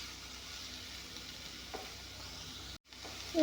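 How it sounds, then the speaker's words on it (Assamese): Cabbage fries in a pan for a fish-head curry, a steady, moderately quiet sizzle with light stirring that cuts out briefly near the end before resuming. "এয়া চাওক, অলপমান ভাজি ল'লোঁ কবিখিনি"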